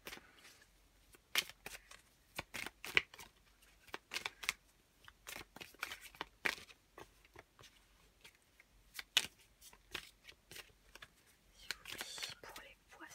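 Tarot cards being shuffled and handled in a quiet room, a series of soft crisp riffles and slaps at irregular intervals, close and faint, with occasional quiet speech.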